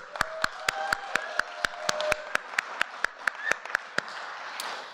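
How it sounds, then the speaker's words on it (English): An audience at the BSidesSF 2018 security conference closing ceremony claps in an even, rapid rhythm, sharp distinct claps under a faint hum, tapering off near the end. "let's do a round of applause just for Megan"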